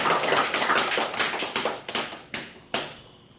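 A church congregation claps together during a Korean sermon, a loud run of close, sharp hand claps that thins toward the end into a few scattered final claps.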